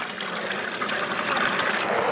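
Sugar syrup mixed one-to-one from sugar and water, poured into a bee feeder as a steady, close trickle of liquid that continues unbroken.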